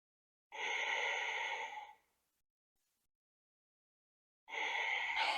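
Two long, deep breaths during an advanced yoga balance pose, each a loud, close, airy exhale of about a second and a half, separated by a few seconds of silence.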